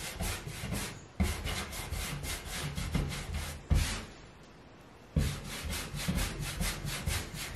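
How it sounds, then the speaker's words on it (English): Wax is rubbed by hand over chalk-painted wood in steady back-and-forth strokes, a close, soft scrubbing with short gaps between passes. "There's not really a rhyme or reason of how I put my wax on."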